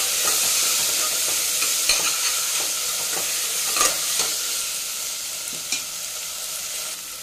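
Vegetables and frozen peas stirred and sizzling in a frying pan for vegetable pulao: steady close frying hiss with repeated scraping strokes of a spoon against the pan, no voices.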